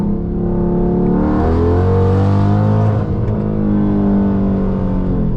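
A powerful Hemi V8 engine in a Dodge Scat Pack or Hellcat revs up hard, its roar rising and holding loud and close before easing slightly, with no talking.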